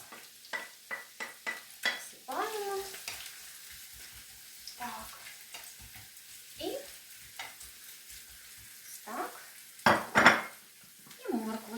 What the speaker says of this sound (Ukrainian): До петельні додаю соняшникову олію, цибульку, коли вже розігріється наша петельня